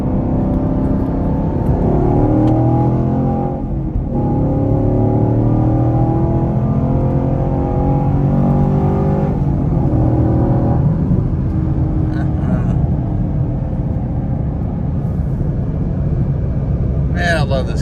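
A car engine drones steadily while driving, a loud continuous rumble with road noise that stays close and unbroken, with a person talking over it.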